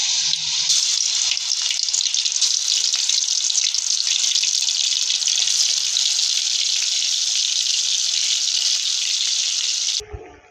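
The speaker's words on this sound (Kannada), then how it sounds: "ಇವಾಗ ಎಣ್ಣೆಯಲ್ಲಿ ಇದನ್ನು ಸ್ವಲ್ಪ ಫ್ರೈ ಮಾಡಲಿಕ್ಕೆ ಬಿಡಬೇಕು." Mutton keema balls frying in a pot of hot oil, a loud, continuous, close hiss of bubbling fat that holds steady for about ten seconds before cutting off abruptly, with no voices.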